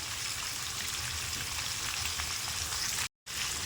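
Nigella seeds drop into hot oil left from frying fish, and a dense, even crackling sizzle fills the space up close before a brief cut of silence near the end.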